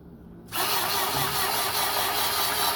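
A 3D-printed model of a Toyota 22RE engine, powered by a battery, switches on with a sudden start and then runs as a steady, even motorized whir, close and continuous, with no voices.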